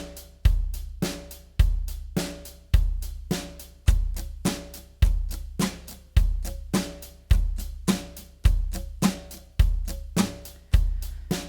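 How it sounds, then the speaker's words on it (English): Steady strummed guitar in a repeating pattern, with every second stroke hit harder, giving a clear accented backbeat rhythm, close and loud with no talking. "The easy listening strum pattern is the guitar version of a common drum beat that sounds like this"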